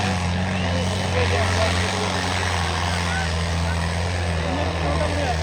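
An Indo Farm tractor engine running hard in a speed contest gives a loud, steady, deep droning roar with a low throbbing hum that holds unbroken throughout, with faint voices underneath.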